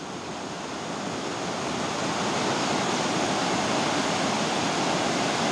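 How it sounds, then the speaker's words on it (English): Light rapids on a river in Honduras rush over big rocks in a continuous, loud broadband roar that swells slightly over the span, with no voices. "Lots and lots of rapids. These are light ones."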